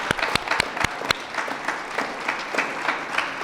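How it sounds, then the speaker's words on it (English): At an end-of-summer celebration, an audience applauds: a few sharp, close claps stand out at the start over a broad bed of crowd clapping that carries on steadily. "You all deserve a round of applause, so really just celebrate yourselves."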